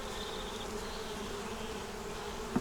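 Honey bees hum in a steady, close, continuous drone at a honey-bound hive, with a faint knock near the end and no talk.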